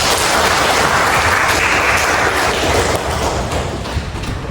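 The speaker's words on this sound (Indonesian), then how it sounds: "Kasih tepuk tangan untuk kita semua." Loud, dense applause from a classroom of students after a group presentation, sustained at an even level throughout and tapering slightly at the end.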